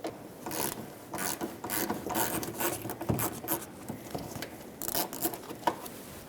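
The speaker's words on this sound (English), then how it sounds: "Right above, there's another Phillips head screw. Remove that as well." A Phillips head screw being turned out of the rear bumper cover of a 2006-2011 Honda Civic, a dense run of ratcheting clicks and scraping, close and continuous for several seconds.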